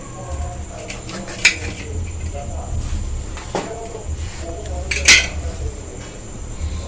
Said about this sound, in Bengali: প্রথমেই পটলের 2টো দিক কেটে বাদ দিয়ে দেব।